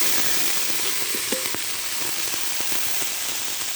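A fried mix of garlic and chillies hits hot mustard oil in a kadai over a wood fire and sizzles in a steady close hiss, with a few pops and clinks and no speech.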